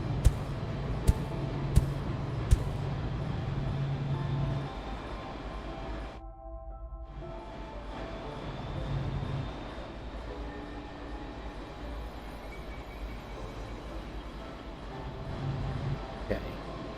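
Trains running in the video game Plan B: Terraform, a steady rolling rumble with a few sharp clicks early on and a brief drop-out partway through, under continuous talk.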